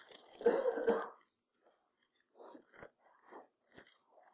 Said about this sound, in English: we could start a choir of coughing tonight